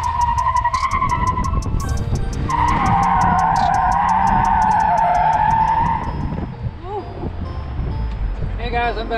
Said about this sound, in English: You ready to do some skids, Joey?